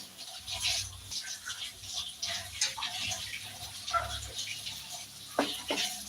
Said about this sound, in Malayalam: വെള്ളം കൂടെ എടുത്തു വന്നിട്ട് ഒഴിച്ചു കൊടുക്കാം